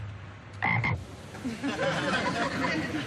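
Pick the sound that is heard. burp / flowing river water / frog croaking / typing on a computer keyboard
frog croaking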